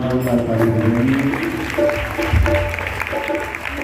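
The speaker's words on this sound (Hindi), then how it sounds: "एक बार जोरदार ताली बजाइए।" An audience at a Bhagavat Katha religious gathering claps loudly and steadily throughout, with a tonal hum of music or voices running underneath.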